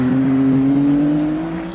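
A race car engine, Porsche Penske Motorsport prototype in WEC qualifying at the 6 Hours of COTA, drones steadily at sustained high revs as the car weaves around the Circuit of the Americas track, loud and close, fading slightly at the end.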